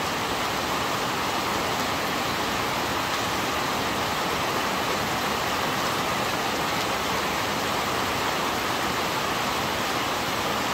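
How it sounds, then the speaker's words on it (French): Heavy rain during a violent thunderstorm near Grenoble in the Alps, a dense, loud, unbroken hiss of downpour filling the whole stretch with no thunder or voices standing out. "là il y a des pluies fortes, mais j'ai l'impression que c'est généralisé en fait"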